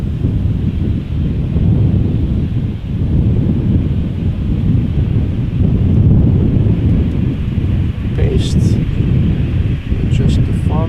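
Strong wind at Amsterdam Schiphol Airport buffets the microphone in a loud, continuous rumbling roar, with brief faint higher tones late on.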